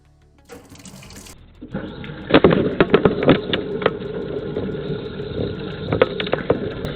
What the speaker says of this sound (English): I'm going to turn on this faucet and stick it up in there and see what we see